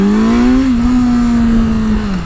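A Honda CBR 650F motorcycle engine pulls steadily under rolled-on throttle, a loud close drone whose pitch climbs slightly and holds, then eases off at the end, with no voices.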